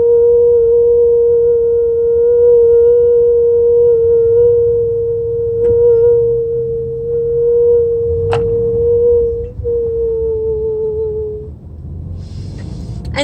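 A sustained pure sine tone holds steady and loud for about eleven seconds, heard at a stoplight, with a faint higher harmonic and a low rumble beneath. A brief click cuts in partway through, and the tone fades out near the end.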